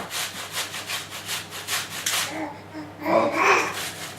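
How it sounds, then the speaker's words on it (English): Apples rubbed against the largest holes of a big kitchen grater, a steady series of rasping strokes in a regular rhythm, close and moderately loud, with no voices. "you should grate the apples"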